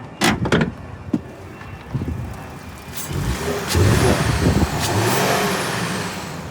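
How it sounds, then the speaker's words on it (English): A collision-damaged 2020 Ford Explorer Police Interceptor with a few sharp knocks and clunks up front, then its engine revving and holding a steady mid-pitched running drone. "Engine sounds good."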